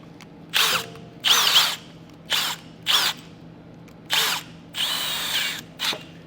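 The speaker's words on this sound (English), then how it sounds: "So I'm just going to put a little grinding bit on there." A 1/2-inch power drill with a grinding bit whirs in a series of short bursts with a harsh grinding edge, enlarging a hole in metal, pausing briefly between each run, close by.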